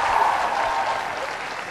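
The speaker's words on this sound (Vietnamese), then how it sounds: "Vỗ tay." Dense audience applause in a television singing-show studio, loud continuous clapping throughout the short stretch.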